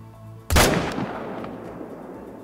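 A single loud, close rifle shot fired at a piebald red deer during a hunt, a sharp crack followed by a long rolling echo that fades slowly.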